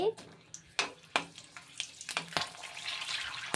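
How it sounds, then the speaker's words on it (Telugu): Green chillies frying in oil for Andhra-style poha mixture, with crackling sizzle bursts and sharp stirring knocks against the pan, fairly quiet and close. "ఈ గ్రీన్ చిల్లీస్ చిన్న నాటు పెట్టుకుని వేపుకోండి"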